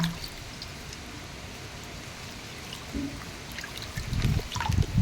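Lukewarm water is poured over hands while rinsing them, making a faint trickling and dribbling that grows into louder, closer splashing toward the end, with no talk.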